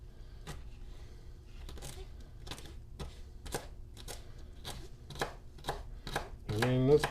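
A cheap dollar-store knife cutting through food on a board, giving a series of crisp, evenly spaced chopping clicks, close and fairly quiet, ending in a brief louder rasp.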